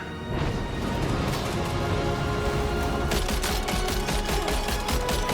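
Sustained rapid gunfire in Death Stranding 2, a steady dense barrage of shots with sharper bursts joining in the second half, loud and continuous without pause.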